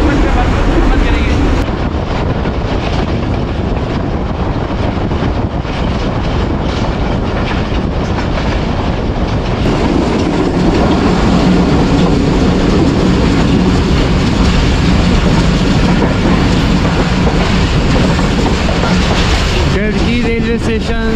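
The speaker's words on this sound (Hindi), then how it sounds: "रेलवे स्टेशन से 28 डाउन शालीमार एक्सप्रेस पास हो रही है।" 28 Down Shalimar Express rushing past a railway station, heavy continuous rumble of wheels on rails with light clickety-clack, loud throughout, swelling midway as the station goes by.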